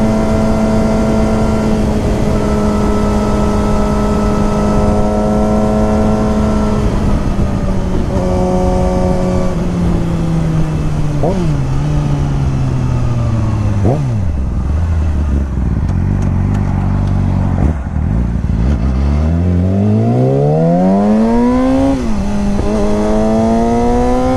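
A 2014 Yamaha R6 sport motorcycle accelerating hard on a test ride, its engine loud and close, the pitch climbing through the gears with drops at each shift, then rising again toward the end.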